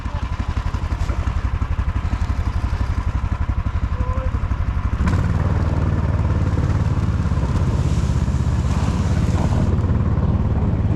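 An all-terrain vehicle, a Tofalar, pushes through deep snow on a taiga river trip, its engine a loud, steady, close throbbing drone that grows heavier partway through, with wind buffeting the microphone.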